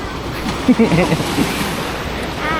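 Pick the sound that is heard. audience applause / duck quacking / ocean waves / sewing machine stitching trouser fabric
ocean waves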